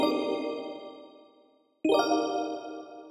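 Plucked synth chords with PlayStation 1 dome and hall reverbs, two long sustained chords that each bloom and slowly fade, with a brief gap between them and wide, lingering ringing tails.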